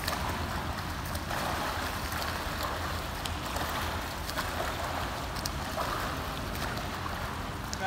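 A swimmer doing the freestyle crawl stroke across the water near a sailing area, giving a steady, close wash of splashing and churning water with small irregular bursts.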